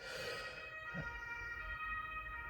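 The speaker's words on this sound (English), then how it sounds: "That was just an ambulance driving along here." A faint ambulance siren wails steadily in the distance, its tones hanging over low background rumble.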